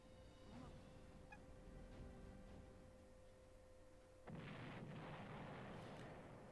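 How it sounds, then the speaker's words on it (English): A video game explosion in Fullmetal Alchemist 3 bursts in partway through, a sudden loud boom that settles into a sustained rumbling roar over steady background game sound. "Ooh, that's an explosion."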